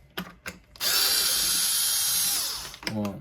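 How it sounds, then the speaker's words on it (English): Cordless power drill backing a screw out of the neck joint of a Dyson Laser Slim Fluffy vacuum, one loud close whir lasting about two seconds, followed by a few small clicks and taps. "Right, first let's take out this few screws here."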